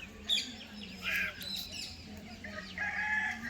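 Chickens cluck and squawk nearby in short bursts, with faint birdsong in the background and no talking.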